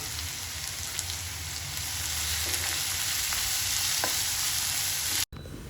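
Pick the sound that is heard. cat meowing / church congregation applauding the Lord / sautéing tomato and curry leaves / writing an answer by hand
sautéing tomato and curry leaves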